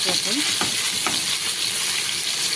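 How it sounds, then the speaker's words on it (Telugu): Mutton keema sizzles in an oily pan, a dense continuous frying hiss with a few soft stirring scrapes, close and steady throughout. "ఇప్పుడు ఇదిగో మటన్ కైమా ఇది ఫ్రై చేసుకున్నాం"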